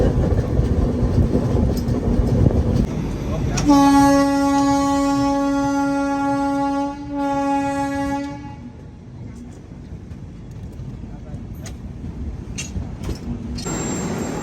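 A train horn sounds one long, loud blast lasting several seconds over rumbling rail noise as the train arrives at a station, then the rumble continues steadily after it stops.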